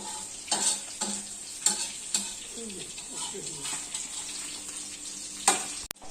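Small freshwater fish fry with masala and curry in a pan, with soft sizzling, scraping and stirring clatter, a few sharp knocks and a loud clack near the end, while people talk nearby.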